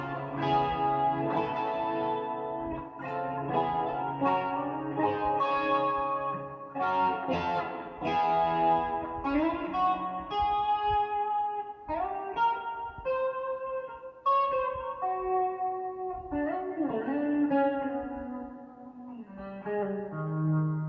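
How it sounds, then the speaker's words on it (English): A Harley Benton SC Custom Plus electric guitar with EMG pickups plays a clean melodic line through reverb and a little delay, the notes ringing and trailing into echoes, alone with no talk. "And it's a reverb and a little delay."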